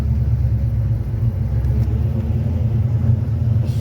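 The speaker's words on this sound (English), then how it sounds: "we're gonna do some figure eights just to kind of slosh the gear oil and the gear additive around" A 1955 Chevy Bel Air hardtop drives figure eights, its engine giving a steady, loud, close low rumble with a constant road drone throughout.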